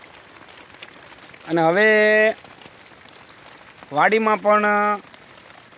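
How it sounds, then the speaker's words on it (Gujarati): Steady rain keeps falling on a farm at a village near Sihor, Bhavnagar, on its fifth straight day, a constant soft hiss beneath someone speaking in two short bursts. "અને વરસાદ હવે બંધ નથી થતો."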